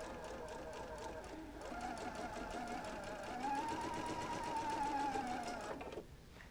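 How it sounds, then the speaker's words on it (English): A sewing machine runs steadily as quilt pieces for a double wedding ring quilt are chain-sewn together, a close continuous whir that shifts pitch midway and stops near the end, with faint voices in the background. "I will start by sewing these 2 together all the way down"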